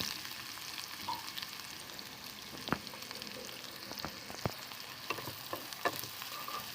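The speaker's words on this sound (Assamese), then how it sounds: "পিঁয়াজখিনি মই ৰঙচুৱা হোৱালৈকে ভাজি থাকিম।" Chopped onions frying in hot mustard oil in a kadai, a continuous soft crackling sizzle with scattered sharp pops and occasional stirring clicks, heard close and alone.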